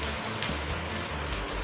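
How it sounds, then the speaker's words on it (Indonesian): Steady rain falls under dark, overcast weather, a dense, even patter of drops hissing continuously at moderate volume with no voices. "dengan suasana hujan dan cuaca yang agak gelap."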